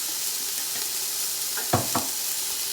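Vegetable fried rice sizzles steadily in a hot pan after a splash of Chinese sauce, with two quick scraping stirs cutting through the constant frying hiss; no one speaks.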